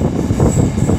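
Avanti West Coast Class 390 Pendolino train 390010 arriving at Rugby station, a steady low rumble of wheels and rolling stock close by.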